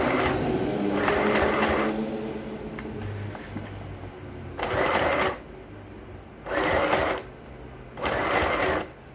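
A sewing machine stitches through thick, many-layered fabric along a trouser waistband, running in several short bursts of rapid whirring with pauses between them, close and fairly loud.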